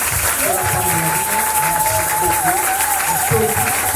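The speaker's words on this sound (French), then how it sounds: "on va nous honorer par nos acclamations" Church congregation applauding to honour the servants of God, a steady wash of clapping throughout with a sustained voice or musical tone held above it.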